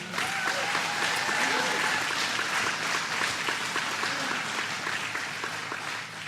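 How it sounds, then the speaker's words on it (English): Audience applause for Peter Schottland at a governor's jobs announcement for an American Packaging expansion: a steady, dense wash of clapping from a crowd with faint voices mixed in. "Let's give him a big round of applause"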